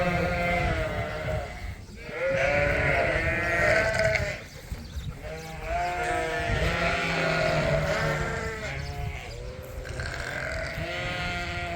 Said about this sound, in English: These are the majority of next year's breeding ewes.